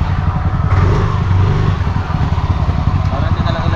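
A motorcycle engine chugs and revs up close, a loud, rough low-pitched rumble with rhythmic pulsing that continues throughout, while people talk over it.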